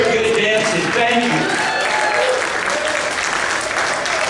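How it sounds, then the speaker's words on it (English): Audience applause at a dance concert, dense and steady clapping from a crowd throughout, with some music and voices faintly mixed in at the start. "Also, give yourselves a round of applause."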